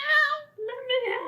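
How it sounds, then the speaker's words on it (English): A house cat meows from behind a closed door, two drawn-out harmonic cries separated by a brief pause, fairly loud and close, with no talk over them. "like the voice of my cat from beyond the door won't shut up"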